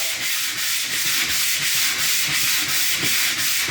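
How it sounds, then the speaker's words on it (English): Rhythmic back-and-forth rasp of a sanding block hand-sanding wood trim, steady strokes roughly every third of a second, close and continuous. "the final cleanup is done by hand sanding with a sanding block."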